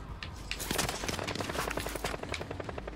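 Heavy gunfire aimed at the player in a video game with a Bullgrog, dense rapid bursts of shots crackling close and loud over the whole stretch, no talking.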